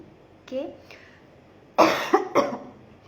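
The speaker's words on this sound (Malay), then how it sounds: "Batuk sikit." A few short coughs, one light pair early on, then a louder burst of two or three harsh coughs close to the mic.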